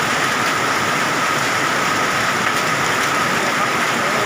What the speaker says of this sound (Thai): พายุลูกเห็บครับ ใช้อาการร้อนจัดนี่แหละครับพายุฤดูร้อนลูกเห็บ